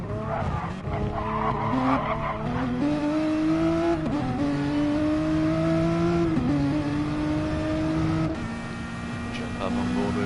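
A race car at Le Mans skids off into the gravel, tires squealing and engine droning in rising and falling pitch. A commentator talks over the continuous sound.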